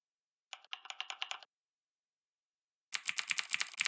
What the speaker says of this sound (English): Now, you can choose the keyboard sound